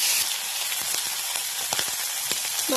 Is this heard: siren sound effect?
no